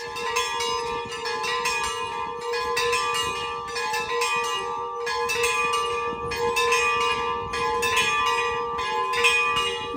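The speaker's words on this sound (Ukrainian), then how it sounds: "Коли вона закінчилась, били у дзвони настільки гарно" Church bells ring out after a liturgy in Montenegro, several bells layered in a continuous, fairly loud peal with repeated strikes and long sustained tones, no voices.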